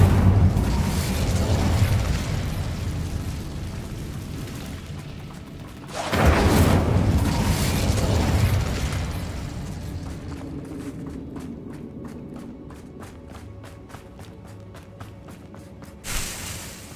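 A fire spell cast in the video game Hogwarts Legacy: a loud whooshing burst of flame that surges, swells again with a second roaring blast, then crackles down into a fading hiss with a brief flare near the end.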